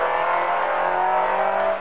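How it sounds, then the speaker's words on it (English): A red Ford Cosworth rally car runs through a chicane at the Brands Hatch Summer Stages rally, its engine a continuous strong roar with no talk over it. "There's a red Cosworth just coming through the chicane."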